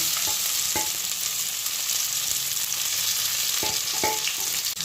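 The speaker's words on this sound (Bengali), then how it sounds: "আমি এবার চিকেনগুলো তুলে নেবার পর এই তেলের মধ্যে এই ভাজা ক্যাপসিকাম এবং পেঁয়াজটা দিয়ে দিলাম" Fried capsicum and onion hiss in hot oil left from frying chilli chicken, a steady close sizzle broken by a few light clicks from stirring.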